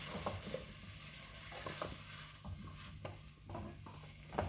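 Celery and mushrooms cook in a stew pot with a steady close sizzle, broken by the occasional scrape or clack of a spoon being stirred through.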